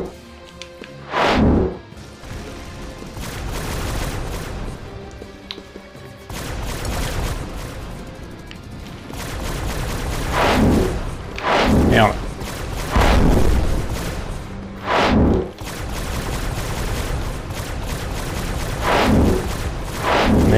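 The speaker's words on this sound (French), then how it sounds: "J'ai cru entendre une explosion." Explosions and gunfire in the video game G.I. Joe: Operation Blackout, with cannons and grenades in play: loud, repeated booming blasts and sharp impacts come in irregular bursts over a constant rumbling battle din.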